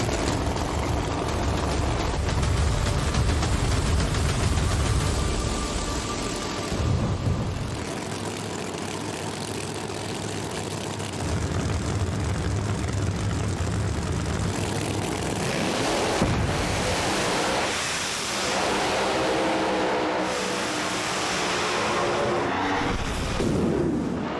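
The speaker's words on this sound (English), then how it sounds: "Kayla Morton on a pass, but the car made a hard move across the center" No-prep drag racing cars on a Michigan strip roar down the track in a loud, sustained engine blast that surges and fades over the run, with no talk over it.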